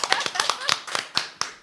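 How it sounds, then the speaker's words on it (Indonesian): A handful of sharp, separate hand claps ring out unevenly from a small audience at a talk, with a voice faintly audible between them. "Yuk jom tepuk tangan dong."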